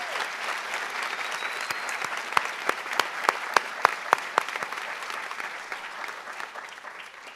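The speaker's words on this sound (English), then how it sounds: "Please applaud the graduating class for their hard-earned scholarship." An audience at a senior honors ceremony claps steadily for several seconds, with a few sharper, louder claps standing out before the applause fades.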